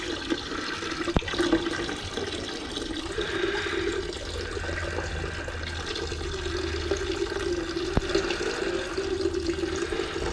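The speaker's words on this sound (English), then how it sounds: "So I'm going to pour this off gently if I can, hopefully not disturbing all the gold." Liquid poured gently off a temporary gold stock pot during gold recovery, a steady, close watery rush and trickle running continuously with a couple of faint clicks.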